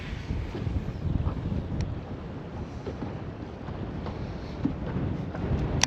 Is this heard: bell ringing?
no